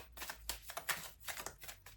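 Oracle cards are shuffled for a card draw, a soft close riffle of rapid papery flicks in several short bursts, quiet and intimate in a still room.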